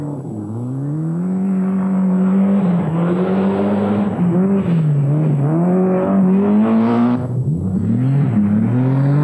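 Rally cars on a punishing forest stage at night in the 1990 Lombard RAC Rally, Talbot Sport entry among them, engines snarling loud and close, revs rising and falling through gear changes as a car charges past without pause.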